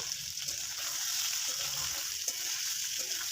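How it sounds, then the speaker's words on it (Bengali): Vegetables frying in a pan for Bengali milk shukto, with ginger paste and salt, give a steady close-up sizzle and hiss that runs without a break and carries faint clinks from stirring. "সবজিগুলি ভালো করে ভেজে নেব।"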